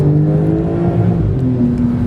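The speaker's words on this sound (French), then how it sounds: "J'espère que tu arrives à entendre les cracks." A Porsche 911 Turbo S of the 992 generation with 650 hp pulls hard under acceleration, a loud, steady engine and exhaust roar rising in pitch, with faint crackles in the exhaust.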